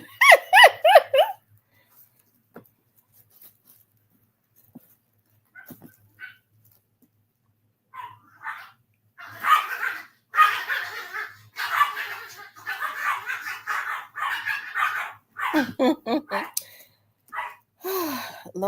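Puppies bark, yip and whimper in short bursts at the start and again near the end, with a stretch of quiet between and a person talking over much of the later part.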